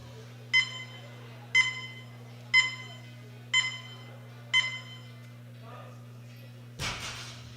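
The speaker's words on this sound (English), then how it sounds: "that 10-second countdown buzzer had started" A powerlifting competition countdown timer gives five evenly spaced, bright electronic beeps a second apart over a steady low hum, followed by a short burst of noise at the end.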